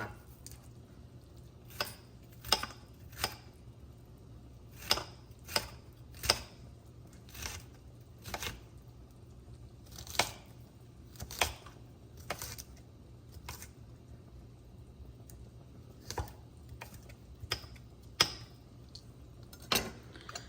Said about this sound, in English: Okay, now we'll give them a nice dice.